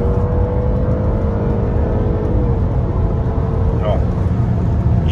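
A 2014 BMW X1 2.0 turbo accelerates at full throttle with quick gear shifts, the engine a steady droning hum heard from inside the cabin.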